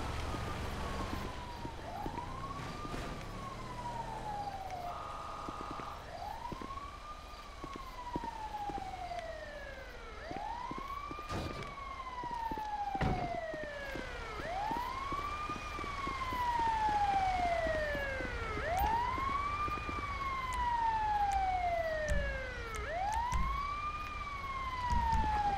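Wailing emergency siren from an ambulance responding in the GTA 5 firefighter mod, sweeping up and down in repeated rising-falling cycles at steady volume throughout, with engine rumble beneath and no talk.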